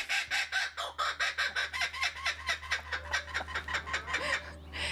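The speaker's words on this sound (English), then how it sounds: "That is a laughing kookaburra." A laughing kookaburra at a bird ranch in Escondido gives its long cackling call, a rapid run of loud, rhythmic hooting bursts carried on steadily for about five seconds, close to the listener and with no talk over it.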